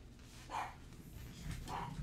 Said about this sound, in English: Barking at nothing.